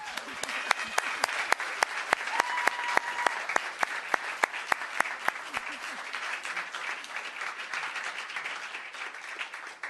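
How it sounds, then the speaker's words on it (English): An audience at a town council meeting applauds an award recipient, a Los Gatos dog and cat hospital, with dense sustained clapping from a room full of people, with some sharp individual claps standing out near the front. "I would like to bring forward the recipient of this month's Small Town Big Applause Award"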